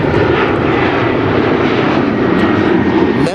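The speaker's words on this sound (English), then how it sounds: "Here's another airplane." A propeller-driven fixed-wing airplane passes overhead near a drain facility construction site in Los Angeles, its steady engine drone loud and continuous throughout, with no voices.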